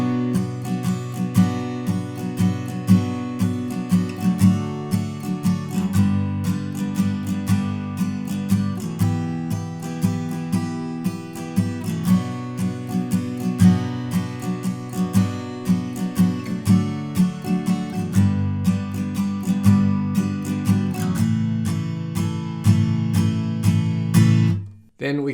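Acoustic guitar strumming the bridge chords of a song, steady rhythmic down strums with regular chord changes, close and fairly loud, fading out at the very end.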